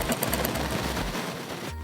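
A sewing machine runs a line of stitching over a blouse lining, a rapid rhythmic chatter of needle strokes in short pulsing bursts, close and fairly loud, ending abruptly with no voices.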